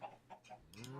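Chickens in a video game cluck in a few short, close calls that end in a rising crow-like squawk, all within about a second.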